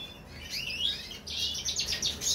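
Small birds chirp and twitter in an aviary, a busy stream of high, rapid tweets and trills at moderate distance, with no voices heard.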